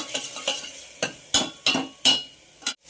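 Onions being sautéed in a pan, stirred with a utensil in sharp, separate scrapes and clinks about every half second, loud and close over a low sizzle.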